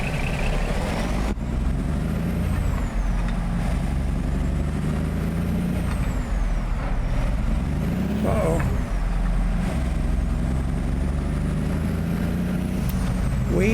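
Heavy diesel truck engine, Z-Mod's 870 in a Kenworth W900 hauling a 71,000-pound trailer in American Truck Simulator, drones steadily with low rumble and a sharp air-brake hiss partway through, loud and continuous throughout.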